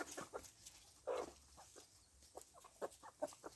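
Chickens in a countryside yard feeding on melons give scattered, soft clucks and brief calls, fairly faint against a quiet outdoor background.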